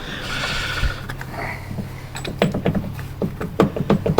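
A worn-out Jeep rear axle gives off irregular clunks and knocks over a low rumbling drone, close and fairly loud, with the knocking growing busier toward the end.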